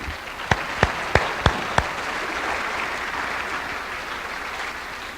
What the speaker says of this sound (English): Let's give them a well-earned round of applause.